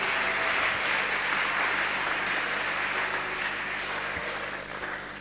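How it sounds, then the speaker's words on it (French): Church congregation at a Sunday worship service applauding together, a steady dense wash of clapping that holds for about five seconds, then thins slightly toward the end. "Acclamons le Seigneur, s'il vous plaît."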